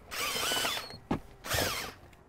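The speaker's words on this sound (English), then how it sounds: "take a clean microfiber, put it over the drill brush head, stick it in the cup holder and turn them on" A power drill spins a drill brush covered with a clean microfiber inside a car cup holder, two whirring bursts of about a second each, separated by a brief clunk, close and loud with no talking.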